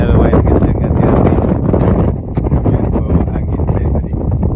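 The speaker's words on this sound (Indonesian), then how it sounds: "Anginnya lumayan kencang, hati-hati." Strong wind buffets the microphone at a harbour pier, a loud, continuous roar that barely eases over the seconds, with no clear voices over it.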